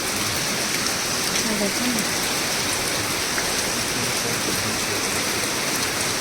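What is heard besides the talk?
heavy rain pouring down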